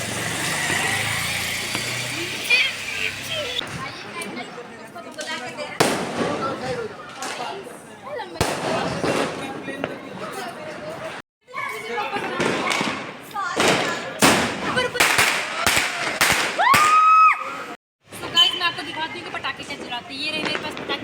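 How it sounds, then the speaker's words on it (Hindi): Diwali firecrackers burst in repeated sharp bangs and thuds at irregular intervals, some close and loud, while people talk between the bursts. "ये रहे मेरे पास पटाखे, ये रही माचिस।"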